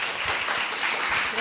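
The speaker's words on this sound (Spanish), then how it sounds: "le damos con un fuerte aplauso la bienvenida" Audience applause welcoming a speaker named Patricia at a reading talk in a popular library, a steady dense wash of clapping throughout with some voices mixed in.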